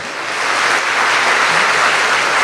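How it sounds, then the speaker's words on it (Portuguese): A church congregation applauding during a Sunday communion service, a dense wash of clapping that swells slightly at the start and then holds steady and loud. "Vamos aplaudir Jesus, o nosso Senhor."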